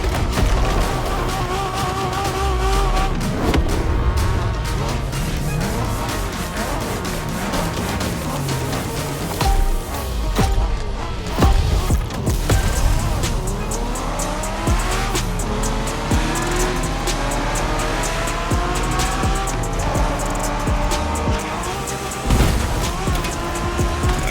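A car races through a Japanese street racing video game, its engine loud and revving up and down while tires squeal repeatedly through cornering skids, continuous and close throughout, without talking.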